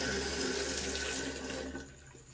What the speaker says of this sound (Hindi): इसके ऊपर ना लोटे वाला पानी फेंकते हैं